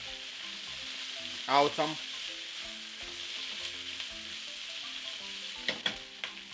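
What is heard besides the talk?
stirring caramelizing vegetables and carrots in a pan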